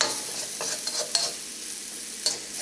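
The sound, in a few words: tomatoes cooking on low flame for chicken curry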